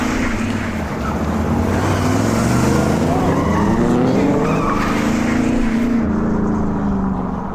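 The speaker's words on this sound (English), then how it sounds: "they play the sound effect of a speeding car" A speeding-car sound effect from a film roars loudly and steadily, with engine pitch sweeping upward and tires hissing, as a car goes by fast without a break before the sound cuts off sharply.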